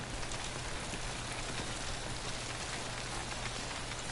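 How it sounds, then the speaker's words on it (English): Steady, dense timefall rain in the video game Death Stranding, a continuous hiss of rain on surfaces filling the whole stretch at an even, fairly loud level with no talk. "I spoke too soon, the timefall's back."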